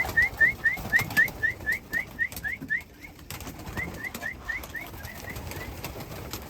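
Pigeons chirping in a loft at feeding time, a run of short, quick repeated calls up close that fade into softer, scattered chirps over rustling background noise.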